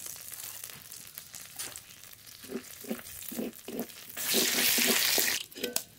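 Whole cumin and bay leaf hit hot white oil for tempering, giving a series of short crackling spits that swell into a loud, sustained sizzle near the end, close by and without speech.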